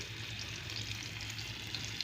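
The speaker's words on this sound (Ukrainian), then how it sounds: "І вона буде обжарюватися з двох сторін." Steady, continuous sizzling of pike frying in a hot pan, an even crackle with occasional small pops, close by and without any talking.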